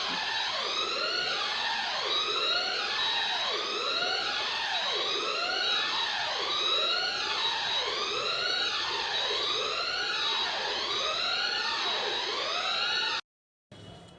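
A loud fire alarm, triggered by a smoke detector on an industrial control panel, sweeps up and down in a steady, repeating wail, continuous for the whole stretch before cutting off abruptly near the end.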